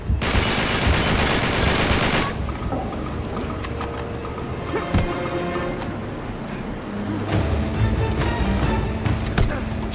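Rapid automatic gunfire erupts at the start in Uncharted 3: Drake's Deception, a dense loud burst for about two seconds, then scattered shots, impacts and action noise continue through the rest of the fight.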